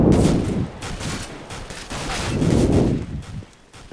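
M4 rifle gunfire in Counter-Strike: Global Offensive, loud sustained bursts of rapid automatic shots that swell and ease over a few seconds, with no voices.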